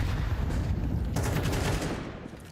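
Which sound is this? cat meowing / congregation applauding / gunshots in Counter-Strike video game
gunshots in Counter-Strike video game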